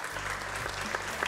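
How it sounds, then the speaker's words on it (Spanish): Studio audience applauding a guest on a live Spanish radio afternoon show, steady dense clapping filling the whole moment at moderate loudness. "El público le aplaude."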